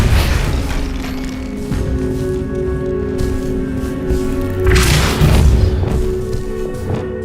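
Booming magical spell blast from Hogwarts Legacy, a deep thud that swells around the midpoint over a steady layer of game ambience and sustained tones, with no voices.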